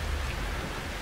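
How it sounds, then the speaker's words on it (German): Steady rain falls in the horror video game Outlast 2, a dense, even hiss of downpour with a low rumbling undertone and no voices. "Es regnet immer noch Blut."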